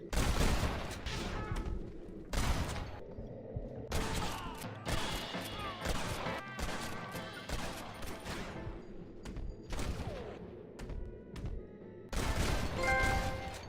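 Rifle gunfire during an ambush in the video game Red Dead Redemption 2, a dense run of loud, closely spaced shots and bursts with brief pauses and game music or ambience beneath, no talk.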